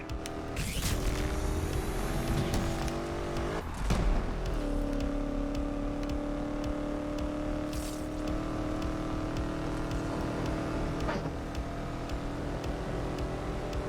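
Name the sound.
car driving in the video game Need for Speed Unbound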